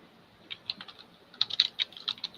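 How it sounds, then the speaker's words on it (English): Computer keyboard typing in a muted online meeting, a scatter of light key clicks in uneven bursts, fairly close and clear, with a denser run of taps toward the end and no talking. "I still hear someone clicking"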